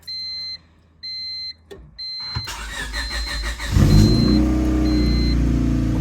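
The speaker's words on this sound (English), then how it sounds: "And then you want to start your car." A 1998 Honda Civic hatchback starts up after a few beeping warning chimes, the starter cranks briefly, then the engine catches and settles into a steady, fairly loud idle close by.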